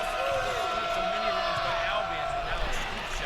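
A crowd roars steadily in an arena during an NCAA Division III men's basketball game between Hope College and Albion College, a sustained wash of voices with occasional ball bounces and a commentator speaking over it.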